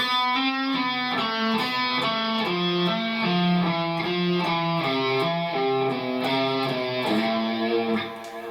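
Distorted electric guitar rips through a rapid repeating note pattern, cascading steadily in quick picked runs with a bright, driving tone.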